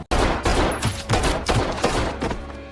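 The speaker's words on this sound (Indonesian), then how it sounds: "Lee juga terkena beberapa tembakan dalam kejadian tersebut" Several gunshots crack in a rapid, uneven burst, five or six loud blasts with reverberant tails, no speech.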